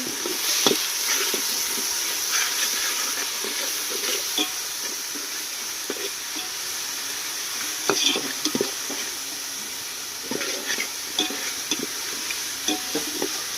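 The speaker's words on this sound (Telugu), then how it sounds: "మన మసాలా కూడా మొత్తం బాగా ఫ్రై అయ్యే విధంగా కలిపేసుకున్నాము." Masala of ground fresh coconut, ginger and garlic paste with tomatoes sizzles steadily in a pan, with scraping stir strokes landing irregularly and close.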